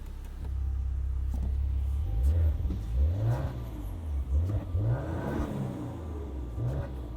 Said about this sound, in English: let's do a quick listen of this exhaust note